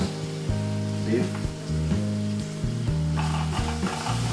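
Minced beef sizzling steadily in a hot pan, a continuous crackling fry with occasional stirring scrapes, under some music, while cooking Mexican-style rice.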